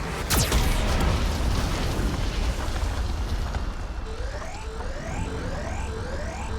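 A Geth cannon in the Mass Effect 2 game fires a single heavy blast at the start, followed by a loud rumbling roar that decays slowly, with rising electronic warning tones and a synthetic voice later.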